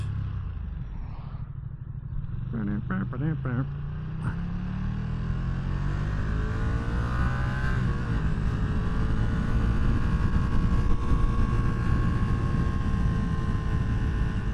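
A car engine with stock exhaust idles and then revs up into a steady, loud rumbling exhaust drone that holds for several seconds.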